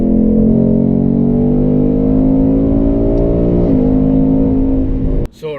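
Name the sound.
Ford Mustang GT V8 accelerating, engine and exhaust revving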